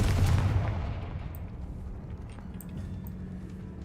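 A Confringo spell explosion in the game Hogwarts Legacy booms with a heavy low rumble that decays over a few seconds, with faint magical chimes above it and no speech.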